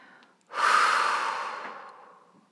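A single long, deep inhalation through the nose during a guided relaxation breathing exercise, close and clear, swelling quickly and then slowly tapering off over about two seconds, with no talking.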